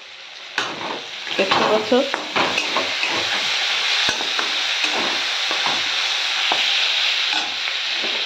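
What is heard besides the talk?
bitter gourd (karela) frying in a pan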